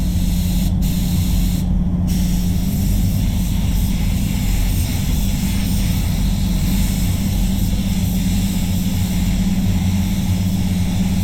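A spray gun lays base coat paint onto a Volkswagen Polo, giving a loud, continuous airy hiss over a low compressor hum that runs steadily throughout, with two very short breaks near the start.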